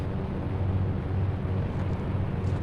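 Iron Man's jet flying in a video game, a steady deep roaring rumble that holds at an even loudness throughout with no voices.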